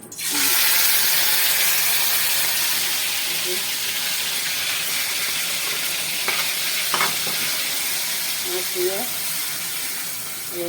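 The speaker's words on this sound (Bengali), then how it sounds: "মরিচ দিচ্ছি, মরিচ দিয়ে দিচ্ছি, দিয়ে দেবো।" Chili dropped into a hot frying pan, a loud continuous sizzle that starts abruptly and holds steady, with a few faint clinks and stirring sounds, close by.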